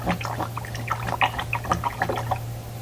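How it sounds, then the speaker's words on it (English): Paintbrush rinsed in a container of water during tempera painting, small splashy swishes and drips close by over a low steady hum. "Then you're going to rinse your paintbrush off"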